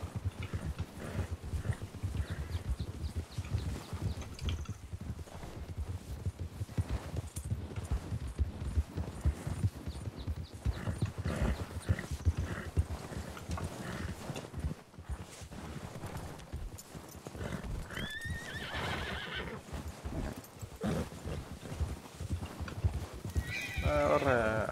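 Hoofbeats of a horse being ridden in the Western roleplay game RedM clip-clop steadily throughout, with a whinny or neigh breaking through, while someone talks over the continuous trotting.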